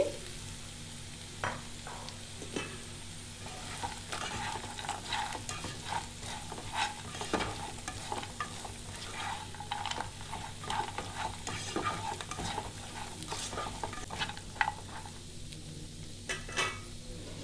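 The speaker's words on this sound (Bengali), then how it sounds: "আমি এবার কর্নগুলো দিয়ে দিচ্ছি।" Baby corn frying in a pan while being stirred, busy close scraping and clattering of a spatula against metal over a steady low sizzle, continuous throughout.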